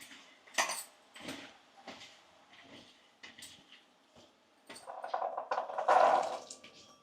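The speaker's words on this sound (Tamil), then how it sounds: "இதை அப்படியே எல்லாத்தையும் நல்லா மிக்ஸ் பண்ணிக்கும்." Food ingredients, including half a lemon, being mixed together in a bowl during a morning lunch-box routine, giving bursts of clinking and scraping with a louder stretch of stirring near the end; no talking.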